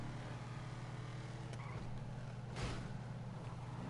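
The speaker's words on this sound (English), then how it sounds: "You're somewhere around here. I can hear you driving." Engine of a car driving in the video game GTA 5 Online, a steady low drone held throughout with a brief rising swell partway, heard alone without talk.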